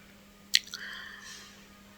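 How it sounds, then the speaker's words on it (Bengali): Boiled potatoes are peeled by hand in a kitchen, giving one close, sharp squishy peel followed by soft, wet smearing sounds over a faint steady hum. "ভালোভাবে আলুর খোসাগুলো আমি ছাড়িয়ে নিচ্ছি"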